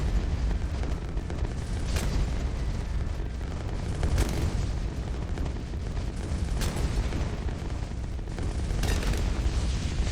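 Explosions from the tower defense game Bloons TD 6 rumble continuously, with dense booms and pops layered into a constant roar and a few sharper blasts standing out every couple of seconds.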